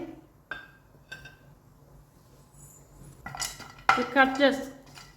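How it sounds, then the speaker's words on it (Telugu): A kadai pan is set down on a stove and cut coconut is tipped in, making a few sharp metallic knocks and clinks close by, followed by louder scraping and clattering toward the end. "స్టవ్ మీద ఒక కడాయి పెట్టుకొని ముందుగా కట్ చేసుకున్న ఈ కొబ్బరి వేసుకోవాలి."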